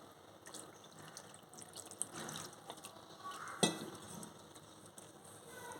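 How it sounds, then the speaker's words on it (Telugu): Cold water is poured quietly into a bowl of flattened-rice murukku dough, with soft trickles and a faint wet splash amid light mixing sounds. "కూల్ వాటరే వేస్తున్నానండి"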